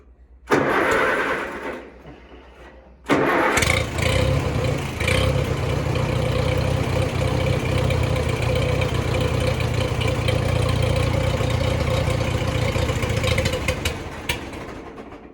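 An Allis-Chalmers WD tractor engine cranks for a couple of seconds, pauses, then cranks again and catches, settling into a loud, steady idle that runs for about ten seconds before dying away near the end.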